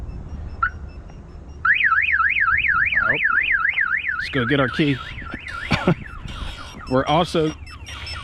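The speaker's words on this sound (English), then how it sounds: "we'll go over and kind of pound on the vehicle a little bit, and we should set off the alarm" Compustar T-13 car alarm set off by pounding on the parked vehicle: a loud, close warbling siren sweeps up and down, then switches through rapid chirps and changing tones while someone talks briefly over it.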